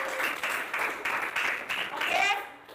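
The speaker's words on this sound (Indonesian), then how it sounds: "Mari kita tepuk tangan untuk kita semua." A group of students and teachers in a classroom clap together at the end of a lesson, a lively close burst of hand clapping with some voices mixed in, fading out near the end.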